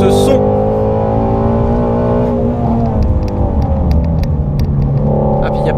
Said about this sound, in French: Mais alors ce qui est vraiment extraordinaire, c'est ce moteur, ce V8.